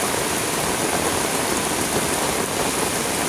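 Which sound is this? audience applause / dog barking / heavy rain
heavy rain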